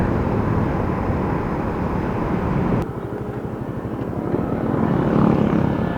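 A Honda XRM motorcycle engine drones steadily and loudly while riding, with a continuous rumbling roar and wind rush. Near the midpoint the engine note dips briefly, then it builds again toward the end.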